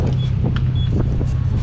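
A Nissan 350Z with a Flashark Y-pipe single exhaust rumbles loudly up close, a deep, steady low drone with brief pulses of throttle.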